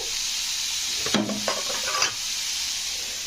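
Carrot and beetroot with salt are stirred in a pan, a soft even sizzle under a few brief metallic scrapes and taps of the spoon against the pan, close and quiet, without talking.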